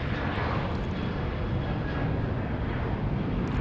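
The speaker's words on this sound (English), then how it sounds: "Here comes Flight 2730 from Tulsa, Oklahoma. This is a 737-700 with its headlights shining upon us." A Boeing 737-700 airliner arriving at Dallas Love Field at night, a steady broad jet roar, constant and moderately distant, with no voices.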